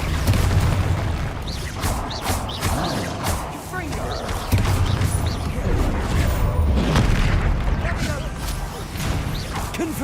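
Repeated Confringo fire-spell blasts in the Hogwarts Legacy video game, a dense run of booming, crashing explosions with thuds and bursts close and loud throughout, with game combat clutter and some voice underneath.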